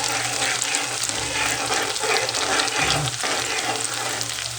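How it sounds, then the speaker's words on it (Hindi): Chopped onion sizzling in hot oil in a pan with cumin, a dense continuous frying hiss with light stirring scrapes, close and steady without talk. "तो अभी मैं ये प्याज दे दिया तेल में"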